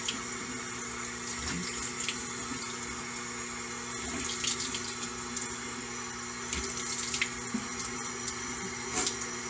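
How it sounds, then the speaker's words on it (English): Warm water running steadily from a tap while someone rinses mascara-laden cleanser off their face, a continuous moderate splash with occasional brighter drips and wet slaps throughout, no talking. "Now, I will rinse. So I just have warm water."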